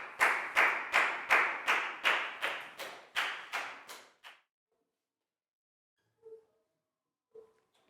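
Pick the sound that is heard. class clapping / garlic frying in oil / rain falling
class clapping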